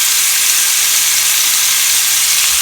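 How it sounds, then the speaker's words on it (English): Pork chops sizzle loudly and continuously in a hot pan, a steady bright hiss of frying with no talk over it. "and they should be sizzling when they go in"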